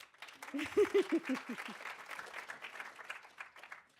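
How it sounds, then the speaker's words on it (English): An audience at a university lab pitch event bursts into applause after a brief voice. The clapping holds as a steady, moderately loud wash of many hands indoors, then tapers off. "Yeah, you can clap."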